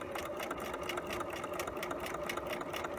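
A sewing machine runs steadily, stitching a fly zipper at a 5/8 seam, with a continuous, even mechanical whir throughout and no talking.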